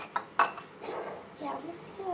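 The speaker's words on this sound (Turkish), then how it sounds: "Karıştıralım bunu bayağı bir." A utensil stirs a homemade glue-free, borax-free slime mixture in a bowl, giving a couple of sharp clinks followed by soft scraping and sloshing, close by, while a person talks.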